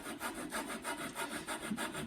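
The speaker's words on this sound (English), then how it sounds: "So I put some lapping compound on there, and now I'm literally just gonna work it back and forth." A lapping bar coated in lapping compound is worked back and forth by hand while mounting a rifle scope, giving a close, rhythmic gritty rubbing that rises and falls in regular strokes, with no talk.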